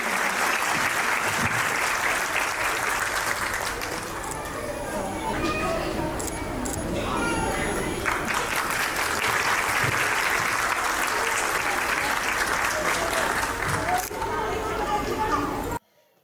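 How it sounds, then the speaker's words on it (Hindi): A crowd at a preschool annual day event gives loud, sustained applause, dense and steady for about sixteen seconds. Voices mix in, and the applause then cuts off abruptly. "मैं रिक्वेस्ट करूंगी सभी एक बार जोरदार तालियां हो जाए."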